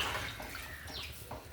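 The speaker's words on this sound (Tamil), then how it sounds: "தேவையான தண்ணி ஊற்றி காய் நல்லா வேக வச்சுக்கணும்." Water being poured into a pot of vegetable curry, a continuous splashing, gurgling stream heard close up for a moment with no voices.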